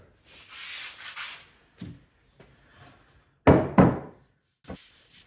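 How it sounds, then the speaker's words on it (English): Someone hand-sands a lump of oak cut from a table leaf, giving several short, raspy rubbing strokes in separate bursts with quiet gaps between them, heard up close. "I've just lightly sanded that lump of oak."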